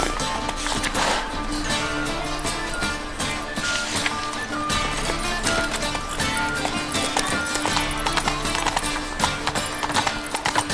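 A horse gallops in The Witcher 3: Wild Hunt, a rapid, steady clip-clop of hooves running throughout, with game sounds and a voice layered over it.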